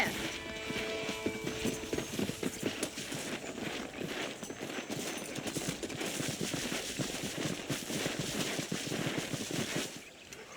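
Horse hooves clop in a rapid, steady rhythm during a ride in the video game Red Dead Redemption, running continuously beneath background music and occasional voices.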